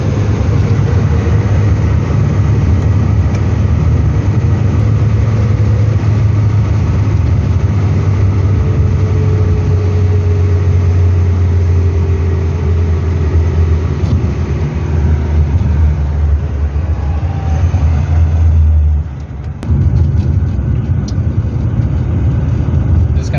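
A Hillman Superminx car drives along with renewed electronic ignition, a steady low engine drone and road rumble from inside the car that runs continuously, briefly dipping near the end before resuming.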